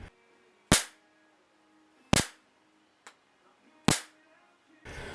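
A homemade Marx generator fires high-voltage sparks that crack sharply at intervals of roughly a second, four loud snaps and one softer one, close up in a quiet room, followed by a burst of noise.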